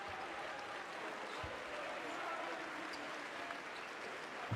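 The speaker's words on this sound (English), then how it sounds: "The crowd applaud, trying to give him some confidence from the line." A basketball crowd claps steadily during a free throw at a Basketball Champions League game, a faint, distant wash of applause filling the arena with arena ambience underneath.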